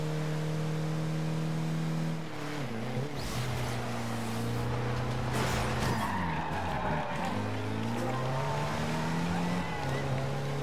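Car skidding with oversteer in the racing game Forza Horizon 2 on Xbox One, a loud engine drone with shifting pitch and tyre scrub running steadily throughout, with a stronger slide and swerve partway through.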